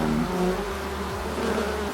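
Honeybees buzz steadily around someone hand feeding them, a dense, continuous close drone with overlapping wingbeat hums and no talking.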